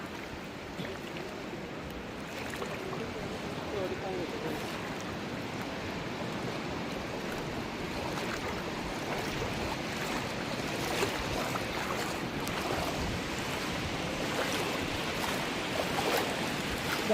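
Steady wash of waves rolling onto Inani Beach, Cox's Bazar, Bangladesh, a continuous rushing surf with no voices.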